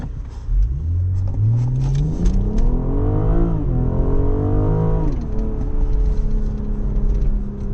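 A BMW M440i xDrive Coupe engine running smoothly from inside the cabin, its steady low drone rising and falling through gear changes with clear harmonic sweeps, loud and continuous without talk.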